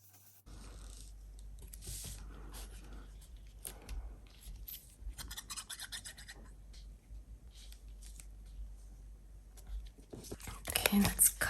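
Cutting excess paper off a journal tag: soft, close scraping and snipping sounds over a low steady hum, with louder rustling near the end.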